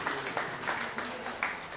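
Congregational applause during a Punjabi Christian sermon, with a crowd clapping steadily at moderate distance and several louder bursts rising over it.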